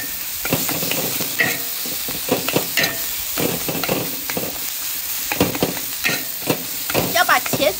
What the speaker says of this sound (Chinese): 要把茄子、辣椒融合到一起炒